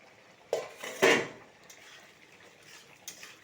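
A lid clanks onto a metal pot of rajma and potatoes, with two close metallic knocks and a faint rattle afterward, then a quiet room with a last small clink.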